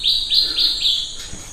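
Several birds chirp in quick repeated high calls, about four bright tweets in a row and then a softer one, heard close and clear in an abandoned, overgrown place.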